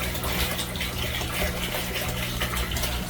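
Water drains steadily from a grow bed in a homemade aquaponics system, a continuous close gushing and trickling flow that holds even through the short stretch, with no talking.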